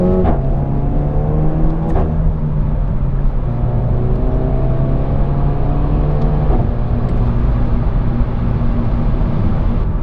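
A Renault Megane RS hot hatch revs hard, its engine note climbing and falling through steady harmonics with sharp pops and crackles, loud and close throughout with no talking.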